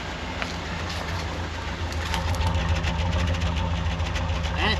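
A 1977 squarebody truck engine idles low and even nearby, a smooth steady rumble with faint chirps and light rattles in the background.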